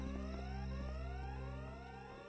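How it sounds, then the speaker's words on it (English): An alarm ringing inside Broken Sword 4 plays as a steady, continuous electronic tone with rising sweeps, holding at a moderate level and fading slightly toward the end, with no talk over it. "Oh, now I can hear the alarm."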